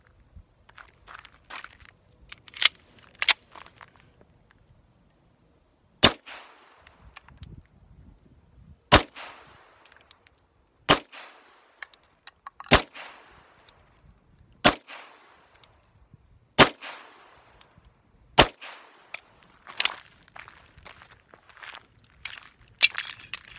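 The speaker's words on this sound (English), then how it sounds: "Let's see how the Tula works in the Springfield Armory 1911." A Springfield Armory 1911 Mil-Spec pistol fires Tula ammunition, about a dozen loud, sharp shots spaced roughly two seconds apart with quieter shuffling and clatter between them, and no talk.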